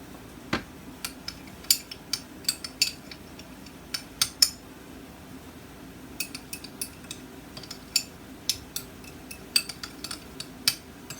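A utensil clinks against a bowl while burger ingredients with salt and pepper are mixed, a steady run of light scattered taps and scrapes over quiet room tone.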